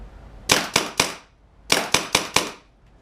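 Quick magazine reload on a Tippmann TIPX paintball pistol running HPA, heard as two sharp bursts of about three crisp clicks each, close and loud with quiet pauses between.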